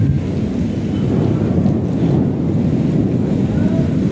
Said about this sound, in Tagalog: napakalakas po ang ulan